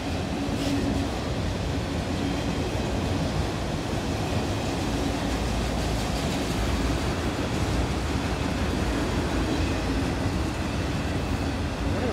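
A heavy, steady rumble of rail cars rolling past close by, constant and loud throughout with no voices.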